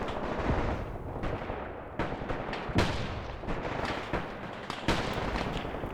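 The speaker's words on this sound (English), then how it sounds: "enemy machine guns are starting to engage" Enemy machine gun fire in the Graviteam Tactics: Mius Front wartime game, with repeated bursts and sharp shots cracking out through a dense, rumbling battlefield din, loudest around the middle and near the end.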